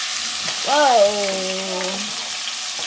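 Venison hits a hot pan and sizzles steadily, a broad hissing crackle throughout, while a voice exclaims briefly over it.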